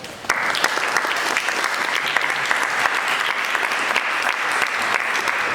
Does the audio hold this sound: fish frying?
no